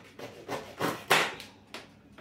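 Knife chopping through the tough base of a lemongrass stalk on a board, giving several distinct woody cuts in an uneven rhythm, close and fairly crisp, with no talking.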